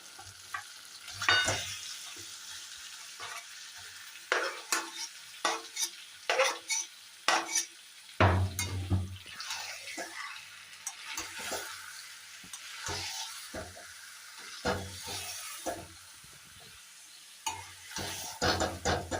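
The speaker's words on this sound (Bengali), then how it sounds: "এবার কিছুক্ষণ আমি কষবো মাংসগুলোকে হাই হিটে দিয়ে।" Rezai mutton stir-fried over high heat in a pan with cooked-down spices and oil, a low steady sizzle broken by repeated sharp scrapes and clanks of a spatula stirring, close and loud, no talking.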